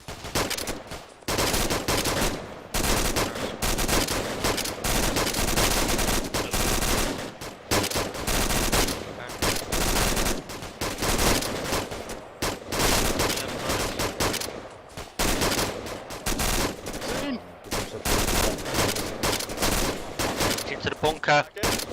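Sustained combat gunfire in Arma 2, rifle and machine-gun bursts crackling almost nonstop at close range for the whole stretch, broken only by brief pauses, with radio voices calling orders over the shooting.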